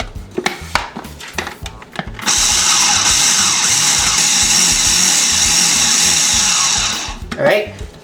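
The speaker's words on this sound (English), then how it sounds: "Then I'm going to keep pulsing to cutting all the butter until you get a nice soft dough." Food processor pulsing butter into a lemon bar crust dough: a few short bursts, then one long loud steady whir close by that stops abruptly, with a voice talking during parts of it.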